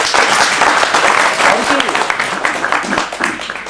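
Audience applause at a spiritual discourse, a dense, loud wash of clapping that swells and then thins toward the end, with a voice speaking over it.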